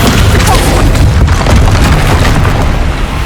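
A Confringo fire spell explodes in the video game Hogwarts Legacy, giving a loud, dense boom that fills the whole stretch with sustained rumbling blast energy and no pause.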